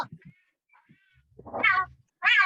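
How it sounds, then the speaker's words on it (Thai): A cat gives a couple of short, clear meows separated by brief quiet, fairly close and loud, with no voices over them. "แมวครับคุณครู"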